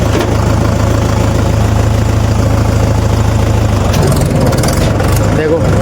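A tractor engine idles in a village setting with a trolley attached, a loud steady low rumble throughout while someone talks over it.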